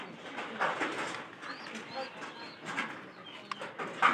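Domestic pigeons coo softly in repeated low throaty bursts, close by, with a faint murmuring voice and light rustling in the background.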